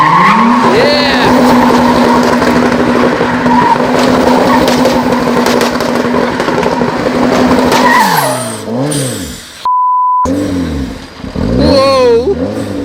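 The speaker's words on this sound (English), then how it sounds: "Give it stick, boys. We want to see some rubber burnt here." A stripped Toyota MR2 does a burnout, its engine held at a steady high drone with tyres squealing loudly. The revs then rise and fall in swoops, briefly cut out, and return. Nearby voices shout under the noise.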